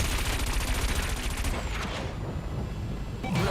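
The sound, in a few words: cannon weapon firing in video game Wipeout 2048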